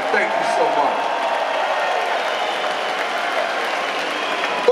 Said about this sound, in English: I need every single person here to give themselves a big round of applause